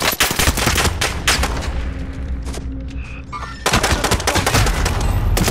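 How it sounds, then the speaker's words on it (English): Heavy gunfire in Call of Duty: Modern Warfare, loud bursts of rapid automatic shots with booming impacts, a brief lull with a whistling tone, then another sustained volley. "Taking fire!"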